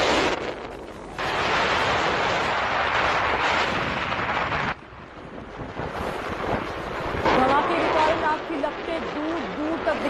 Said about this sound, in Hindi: ये जो आवाज आपको सुनाई दे रही है, ये आग लगने की वजह से वहां जो एम्बियंस क्रिएट हो रहा है